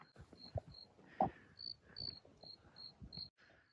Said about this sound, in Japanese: スズムシがね、風情ある。